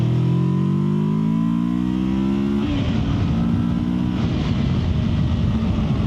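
A 2024 Kawasaki Versys 650 motorcycle pulls away on a first ride, its engine note climbing steadily through a gear, a brief dip at the shift, then rising again, close and loud with wind rushing past.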